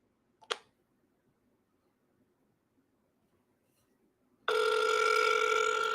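A single click, then a few seconds of near silence, then a loud, steady electronic ringback tone as a phone call placed through an app starts ringing, with no talk.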